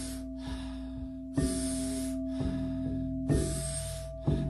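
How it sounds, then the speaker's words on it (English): Yoga breathing at a steady rhythm: a forceful inhale through the mouth followed by a soft, relaxed exhale, repeated several times over a constant low background hum. "So big inhale, soft exhale"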